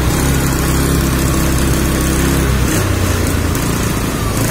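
Motorcycle engine running on special thinner instead of petrol, a loud, steady low engine drone held throughout with a slight change in pitch partway as the throttle is worked; no talking.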